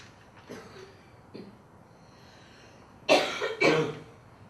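A few soft throat sounds are followed by two loud, harsh coughs close by, one right after the other.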